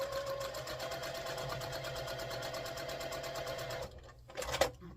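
A sewing machine stitching quilt block seams, a steady close whirring run for about four seconds that stops abruptly, followed by a brief handling rustle.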